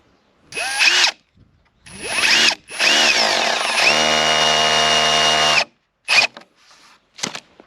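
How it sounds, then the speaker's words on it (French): A power drill drives screws into wooden gate planks, two screws per plank, in loud whirring bursts with a sustained run in the middle and short final spurts, no talk. "Et donc je vais mettre deux vis par lame."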